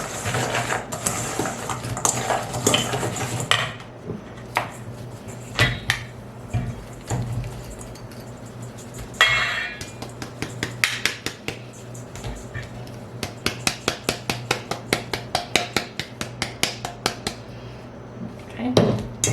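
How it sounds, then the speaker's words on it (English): Pecans stirred in a bowl to coat them in a sticky candy mixture, with scraping and a long run of sharp clicks and taps from the utensil against the dish, near and intermittent, with occasional quiet voice. "So you want to coat them completely with this mixture."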